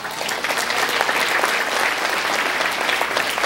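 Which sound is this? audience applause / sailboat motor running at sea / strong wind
audience applause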